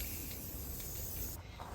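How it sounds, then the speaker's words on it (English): A spray can lays a clear sealant coat onto painted scalloped wood garden trim, producing a faint, steady hiss up close that cuts off near the end. "I'm going to just spray them with a clear sealant coat"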